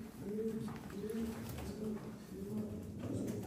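Bukhara pigeons coo in a loft, soft repeated rolling coos at an even rhythm, fairly faint against a low background hum.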